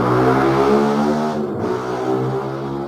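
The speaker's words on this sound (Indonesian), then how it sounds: "di sini emang banyak sering motor lewat" A motor vehicle engine, most likely a motorcycle passing by outside, drones steadily and fairly loud for the whole stretch with a brief dip midway, heard alone without talk.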